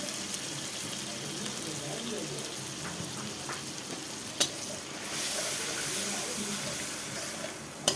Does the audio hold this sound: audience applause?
no